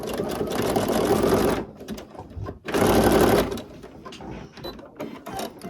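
A sewing machine stitches appliqué onto a quilt border in two loud, steady runs separated by a short pause, with light handling clicks in between and no talking.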